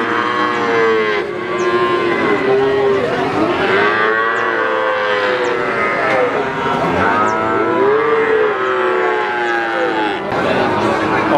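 Cattle and young calves moo repeatedly at a busy livestock market in Blora, Indonesia, the loud, drawn-out calls overlapping one another above a constant murmur of crowd chatter and background bustle.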